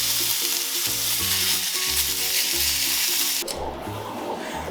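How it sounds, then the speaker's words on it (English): A thick steak sears in a hot pan with a loud, dense, close sizzle that stops abruptly near the end, leaving a quieter background hiss. "This is a seared steak off of the pan."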